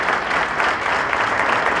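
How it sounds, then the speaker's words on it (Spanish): Brief burst of audience applause at a municipal ceremony honoring town employees, dense steady clapping throughout with no talk over it. "doble el aplauso, por favor, para Estela"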